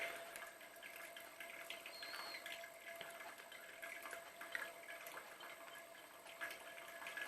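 Soft, steady trickle of water poured slowly and continuously over coffee grounds, a gentle splashing hiss with no voices.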